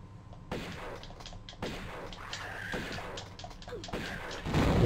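Shotgun blasts from the Tomb Raider video game, Egypt level, come as several heavy booming shots spaced about a second apart over background game sound.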